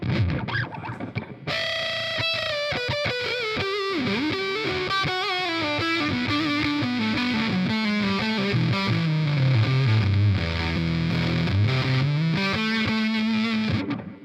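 An Eastman Fullertone electric guitar on the neck pickup, overdriven, plays a melodic line with sliding, bending notes, a delay effect trailing echoes behind each phrase; no talking.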